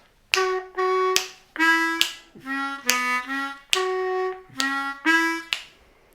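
A harmonica plays a bluesy phrase of short, separated notes with crisp attacks, alone and close, with brief pauses between notes.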